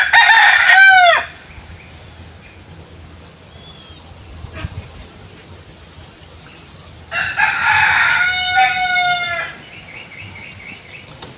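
A native rooster crows loudly and close by, twice with a long pause between, over a quiet rural backdrop with a few faint clucks and chirps.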